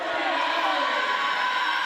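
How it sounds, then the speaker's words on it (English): The Renaissance crowd cheers loudly at a girls volleyball game between Detroit Renaissance and Cass Tech, a continuous roar of voices and whoops filling a gym, dense and close throughout. "And the Renaissance crowd getting after it."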